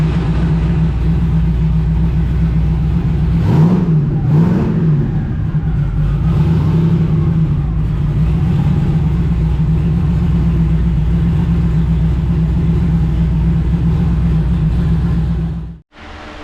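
A tuned race car engine idling steadily and close, a constant low rumble that swells briefly with a couple of light throttle blips early on before settling back and cutting off abruptly at the end.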